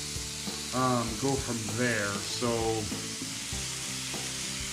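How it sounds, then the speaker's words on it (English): Ground beef and Graziano sausage sizzle steadily in a frying pan, a continuous hiss that runs under a voice talking throughout. "she's sizzling away already"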